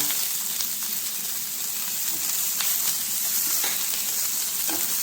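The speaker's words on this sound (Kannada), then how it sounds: "ಈ ಹಂತದಲ್ಲಿ ಏನು ಕೊತ್ತಂಬರಿ ಸೊಪ್ಪು ಪುದೀನ ಸೊಪ್ಪನ್ನು ತಗೊಂಡಿದ್ದೀವಿ ಅದನ್ನು ಹಾಕಿ ಸ್ವಲ್ಪ ಹುರ್ಕೊಳ್ಳೋಣ" Coriander and mint leaves fry in hot oil in a pan for a mushroom pepper gravy, giving a steady, loud, close sizzle throughout with a few faint stirring clicks and no voices.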